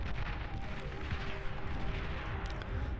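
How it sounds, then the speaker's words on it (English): Artillery fire in the Beyond All Reason strategy game pounds continuously as a dense wash of overlapping booms and explosions, loud and unbroken for the whole stretch. "The center is just getting obliterated here by this artillery"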